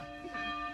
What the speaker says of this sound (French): on est en face de l'église, donc vous entendez les cloches